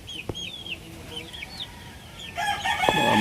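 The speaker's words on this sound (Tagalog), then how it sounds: "Mga Boston Roundhead yan." Several Boston Roundhead gamefowl roosters crow in turn, a few rising calls near and farther off, then a louder burst of overlapping crowing and clucking fills the end.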